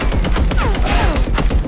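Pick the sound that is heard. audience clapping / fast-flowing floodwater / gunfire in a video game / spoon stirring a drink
gunfire in a video game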